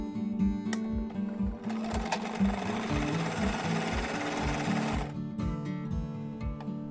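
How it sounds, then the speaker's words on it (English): A sewing machine runs in a fast, even stitching rhythm, close and clear, as it sews along the edge of a fabric face mask, with a short denser burst in the middle. "Now we're just going to stitch along this edge."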